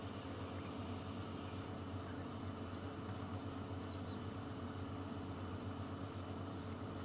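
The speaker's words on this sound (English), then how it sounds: "cicadas still making a lot of noise" A constant, dense droning buzz of cicadas at Djuma Game Reserve, South Africa, fills the whole stretch, steady and loud with no breaks.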